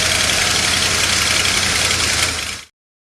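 A 1994 Ford F150 engine runs loud and close with a steady, rough mechanical roar, then cuts off abruptly near the end into silence.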